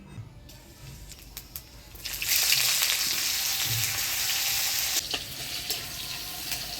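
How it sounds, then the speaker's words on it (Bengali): Nigella seeds and chopped onion hit hot oil for a Bengali vegetable chorchori tempering, starting with faint kitchen clatter, then a loud steady sizzle that surges and holds for several seconds before easing slightly, with no talking. "ফোড়ন দিয়ে দিব কালো জিরা, পেঁয়াজ কুচি।"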